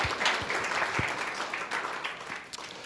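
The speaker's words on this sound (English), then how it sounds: "Let's give a round of applause." A congregation at a Center for Spiritual Living service applauds, a dense, steady patter of many hands clapping throughout.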